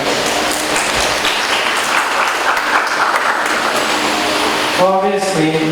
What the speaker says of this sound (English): Let's give ourselves a round of applause for our achievements.